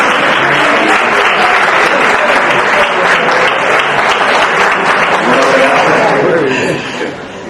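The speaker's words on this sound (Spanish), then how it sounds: "Un aplauso." Loud, dense applause fills a talk by a Málaga doctor and writer, with some laughter and chatter mixed in, tapering off near the end.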